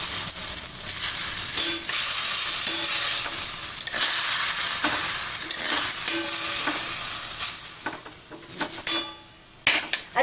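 Dill leaves for Maharashtrian shepu bhaji sautéed and stirred in a pan, a steady close sizzle with repeated scraping strokes of a spoon against the metal throughout, no voices.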